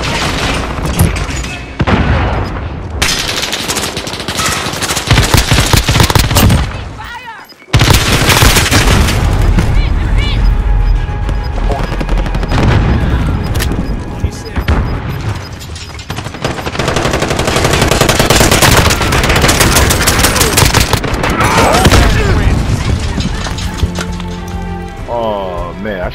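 Rapid automatic gunfire with heavy booms and scattered single shots from the video game Call of Duty: Modern Warfare, loud and nearly continuous with a brief gap, mixed with game effects and talk.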